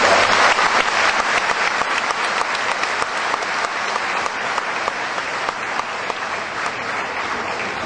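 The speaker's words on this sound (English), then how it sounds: "Let us give her once again a round of applause." An audience applauds at a degree conferment ceremony, dense sustained clapping from a large crowd that tapers slightly over several seconds, no one speaking.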